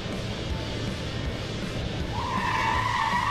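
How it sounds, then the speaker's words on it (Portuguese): Emergency braking at 200 km/h, tires skidding with a rough sustained roar that rises into a sharp squeal toward the end, loud and without voices. "Ao viajar 200 km por hora, qualquer frenagem é uma frenagem de emergência."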